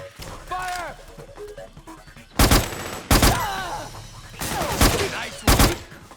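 Bursts of automatic gunfire in Metal Gear Solid 4, several loud volleys at irregular intervals with shouting voices and combat noise between them.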